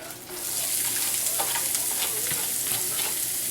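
Carrots frying in seasoned leftover cooking oil alongside tender venison for a Texas Swiss steak, a continuous close sizzle with occasional stirring scrapes, steady and fairly loud after a quieter start.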